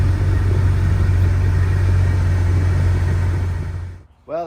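A newly replaced blower motor fan in a Jeep Wrangler runs hard with a steady, loud whooshing hum for nearly four seconds, then cuts off abruptly.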